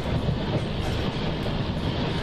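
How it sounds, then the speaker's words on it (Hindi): A Shatabdi Express running on track in Train Simulator (MSTS) between Vapi and Valsad, a loud, close, steady rumble of wheels and rails over a short stretch. "ट्रैक साउंड आपको सुनाई दे रहा होगा अच्छे से"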